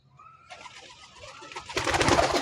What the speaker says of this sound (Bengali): হায় হায় কবুতর সবাই কিন্তু পেট ভরা আছে